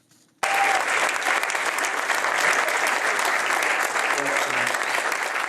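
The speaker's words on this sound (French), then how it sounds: "Tonnerre d'applaudissements pour Lucas Clesen" After a brief quiet moment, a thunderous round of applause bursts in for short film award winner Lucas Clesen at an awards evening and continues loud and dense throughout, with faint speech beneath.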